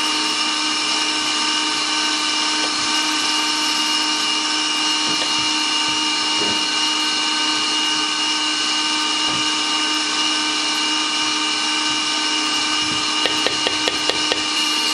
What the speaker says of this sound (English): I'll melt this in the microwave.